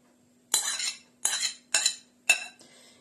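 A utensil stirs minced meat mixed with cheese, onion and two eggs in a bowl, making four distinct close scraping clinks of metal against the bowl in quick succession.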